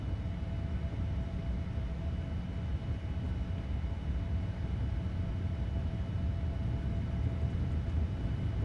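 A steady, even roar of Boeing 787 Dreamliner engines at takeoff thrust during a flight-simulator departure from Tenerife, a continuous low rumble with no change in level and no voices.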